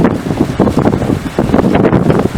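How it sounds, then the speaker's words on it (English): Steady wind buffeting close against the microphone, a rough low rumble that gusts and swells throughout. "And it's windy."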